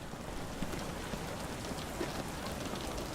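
Steady rain falls in the Victorian London streets of the Sherlock Holmes: The Awakened video game. A dense, even hiss of drops continues throughout with no speech.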